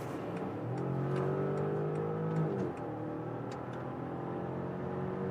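A 2024 VW Touareg facelift with a V6 TSI engine accelerates in sport mode, its engine note rising steadily before a brief dip at a gear change and then climbing again, heard from inside the cabin with no talking.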